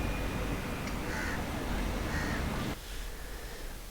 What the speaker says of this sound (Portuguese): Mais um vídeo aí mostrando alguns corvos.